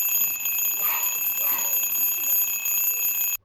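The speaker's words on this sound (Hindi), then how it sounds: "अलार्म बजता है।" Small bedside alarm clock with a light sounding its melodious alarm, a steady high-pitched electronic ringing with sustained tones that continues loud and close, then cuts off abruptly at the end.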